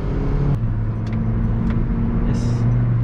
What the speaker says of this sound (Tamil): ஸோ நம்ம வண்டி ட்ரைவ் பண்ணு.